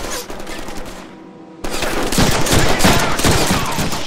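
Gunfire from the Deadpool video game on PC: a brief lull, then a loud, dense burst of rapid shots that continues without letup to the end.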